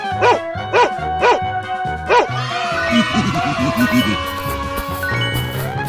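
Cartoonish dog barks in a 3D animal slide video game, four evenly spaced yelps at the start followed by jingling game music and sound effects, fairly loud and without talk.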